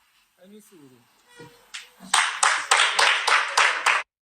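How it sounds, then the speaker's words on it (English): Audience hands clap in a steady rhythm, about eight loud, evenly spaced claps close by, following a short stretch of speech at the start. "Why are they clapping?"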